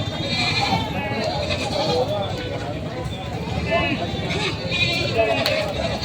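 Several goats bleat repeatedly nearby amid a busy, noisy outdoor background, with people talking throughout.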